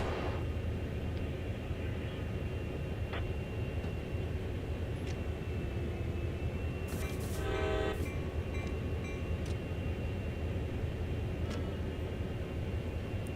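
Locomotive in the Train Sim World game rumbling steadily in the cab, a continuous low engine drone with a brief horn-like tonal blast midway and a few faint clicks.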